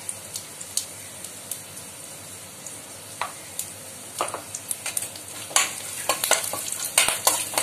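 Asafoetida and turmeric frying in oil in a pan for lemon rice, a soft steady sizzle with scattered clicks and spoon scrapes that grow louder and busier toward the end, no voices.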